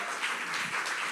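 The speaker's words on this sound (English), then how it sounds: "Another round of applause for Andrew." An audience applauds for a performer at a community event, a dense brief wash of many hands clapping at moderate level, with no speech.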